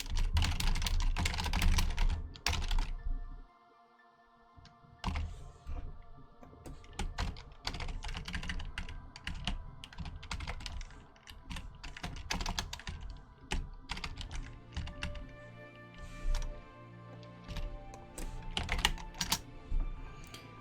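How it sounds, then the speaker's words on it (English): Rapid computer keyboard typing, close and steady, with clustered keystrokes and occasional heavier thunks, continuing through a brief pause near the start. "Keyboard ASMR."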